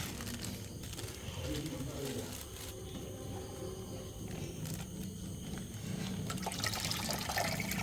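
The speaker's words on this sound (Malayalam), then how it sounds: "ഇനി നമുക്ക് ഈ മീനെ എടുത്ത് ഇങ്ങോട്ട് ഒഴിക്കാം." Five guppy fish are tipped out with their water into a tank, giving a soft, continuous trickling splash at low level, with a voice talking faintly now and then.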